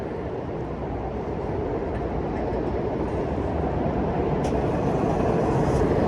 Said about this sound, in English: There's a train that also runs along the bridge. It's the Patco train.